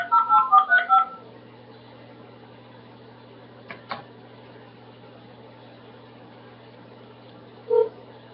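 A telephone keypad sends a quick run of about five dialing tones at the start, then a steady low hum with two brief clicks and one more short tone near the end.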